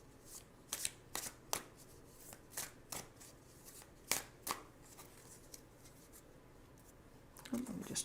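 Osho Zen tarot cards being shuffled by hand in a series of sharp, crisp riffling bursts, irregularly spaced and close up over a quiet background, with a brief rustle near the end.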